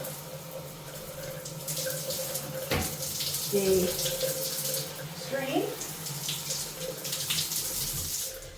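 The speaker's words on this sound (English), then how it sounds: "Just let the water go through" Tap water pours steadily into a sink over small scrub brushes being rinsed, a continuous close splashing hiss with a few clicks and knocks, and a brief spoken remark partway through.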